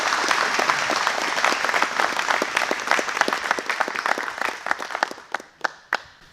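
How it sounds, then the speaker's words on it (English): A crowd applauds at a groundbreaking ceremony at the Warhawk Air Museum in Nampa, Idaho, with dense, sustained clapping that gradually thins out, ending in a few scattered claps. "Can we do a round of applause for making that happen?"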